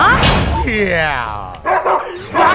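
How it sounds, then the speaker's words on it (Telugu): A dog in a scene from the Telugu comedy film Tommy, toying with a thief, gives a loud, close bark followed by drawn-out whining yelps, mixed with voices talking. "కుక్క"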